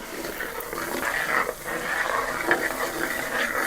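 Flour being stirred into a bacon Alfredo sauce in a pan, with a steady soft scraping and bubbling simmer close by, fairly even throughout with no talking.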